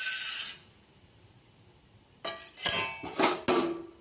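Roasted gram dal tipped into a pan while making idli podi, landing in a few sharp rattling, clinking bursts after a quiet pause, close and fairly loud.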